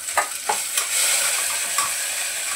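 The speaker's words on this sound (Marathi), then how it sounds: "असं चांगले मसाले परतून घेते" Spices, home-ground chili powder, Kashmiri chili powder and ground masala paste sautéing in a pan, a steady bright sizzle with a few soft stirring scrapes and clinks, heard alone without talk.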